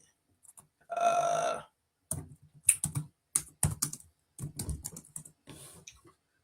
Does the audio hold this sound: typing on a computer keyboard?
yes